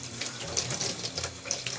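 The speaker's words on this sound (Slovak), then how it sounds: "I toto napúšťame vody" Tap water runs steadily into a rabbit's drinker bottle while it is filled, a continuous close splashing hiss with no voices.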